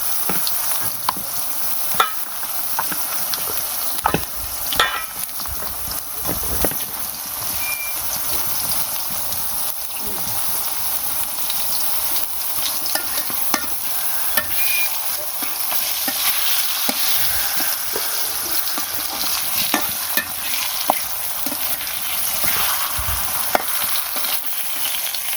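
Food fries in hot oil with a constant bright sizzle while a utensil stirs and scrapes the pan, sharp clicks and knocks landing at irregular moments throughout.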